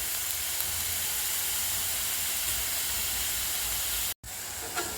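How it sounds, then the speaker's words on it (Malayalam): Capsicum sautés in a pan with a steady, loud, broad sizzle and hiss that runs unbroken, apart from one brief dropout near the end. "ക്യാപ്സിക്കവും കൂടെ ഇട്ട് നമുക്ക് വഴറ്റാം. ഇത് നന്നായിട്ട് വെന്ത് വരട്ടെ."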